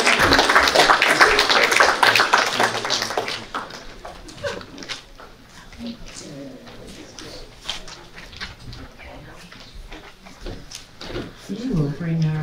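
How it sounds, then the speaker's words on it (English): Audience applause for town board candidates at a local candidate forum in Niskayuna, a dense burst of clapping for about three seconds that gives way to talking and scattered room noise. "let's give a round of applause for our town board candidates."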